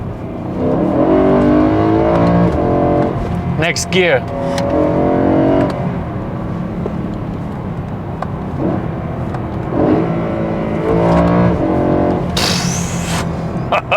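A BMW M3 E92 with its V8 revs hard through gears, loud engine roars rising and falling with sharp downshift blips, heard from inside the car with a voice speaking briefly over it.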